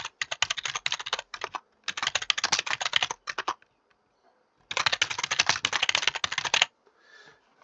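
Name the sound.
computer keyboard clacking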